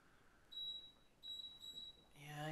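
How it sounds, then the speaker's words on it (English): High-pitched electronic beeps from a tea brewing device set for pu-erh tea, two thin tones about a second long each, faint and close, followed by a person starting to talk. "Yeah, I got a beep."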